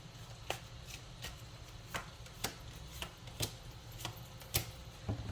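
Oracle cards shuffled by hand in short bursts, a series of crisp riffling snaps about every half second over a soft low hum, quiet and close, with no talking.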